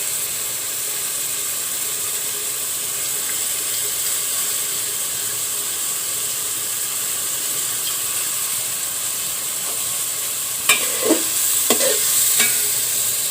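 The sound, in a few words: masoor dal and prawns frying and stirring in a pan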